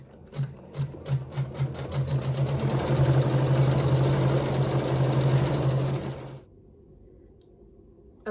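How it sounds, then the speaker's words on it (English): A sewing machine stitches a decorative pattern for an embroidered phone stand block, starting with a few quick bursts, then running steadily and loud for several seconds before stopping, leaving a faint hum. "it will sew a decorative stitch"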